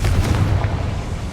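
A Confringo fire spell in Hogwarts Legacy sets off a loud, sustained explosive roar with heavy low rumble and crackling bursts that fill the whole moment.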